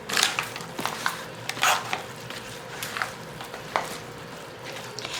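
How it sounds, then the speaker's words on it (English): Collard greens with broken-up smoked turkey wings stirred in a pot: soft, irregular scraping and wet shuffling strokes with a steady low sizzle underneath, fairly quiet and close. "I'm going to give it a good stir"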